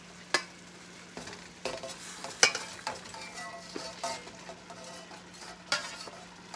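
Shrimp and broccoli stirred in a hot pan, with a low continuous sizzle broken by sharp clinks and scrapes of the utensil against the pan at uneven intervals, and no talking.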